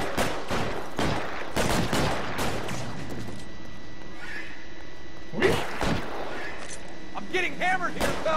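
Rapid gunfire during a shootout in the video game L.A. Noire, with repeated sharp shots in quick volleys, overlapping game dialogue and shouting.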